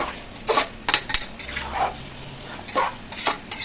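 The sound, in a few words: stirring mutton biryani ingredients together in a pot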